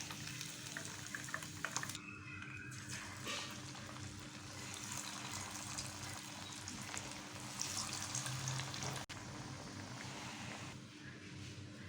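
Fish pieces deep-frying in hot oil for fish Manchurian, a faint, continuous bubbling sizzle running throughout with a few small splashes and clatters.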